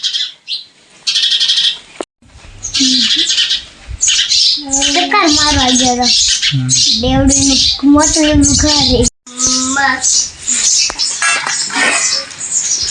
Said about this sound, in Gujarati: તો એ નળિયાને પાડીને બીજા પક્ષીઓ પણ બહુ બોલે છે.